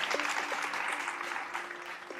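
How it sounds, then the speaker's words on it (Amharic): Warm studio audience applause on an Ethiopian television game show, a dense steady wash of many hands clapping throughout, with a faint tonal hum underneath. "ለ2000 አበሻ ሞቅ ያለ ጭብጨባ"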